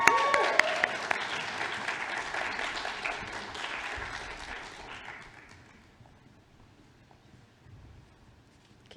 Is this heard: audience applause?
yes